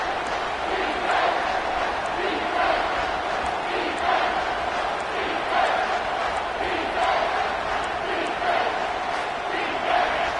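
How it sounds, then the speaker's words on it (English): A loud football stadium crowd roars steadily on a third down, a dense, sustained wall of cheering and yelling that swells in waves and never drops away. "Third down, and this crowd is tearing the lid off this place."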